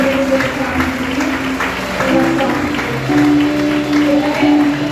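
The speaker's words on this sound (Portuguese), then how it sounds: "Aplauda o Senhor." Church congregation clapping for the Lord during a Portuguese-language service, a steady wash of applause lasting several seconds with a sustained tone and music-like hum running underneath.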